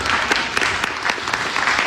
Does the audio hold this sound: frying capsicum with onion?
no